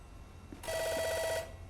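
A telephone rings once in the video game American Arcadia, a bright electronic trill lasting under a second that stands out clearly against a quiet background.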